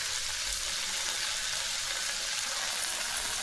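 Cooked horse gram tipped into a frying pan of oil-fried palya, giving a steady loud sizzle and hiss that runs unbroken, with no voices.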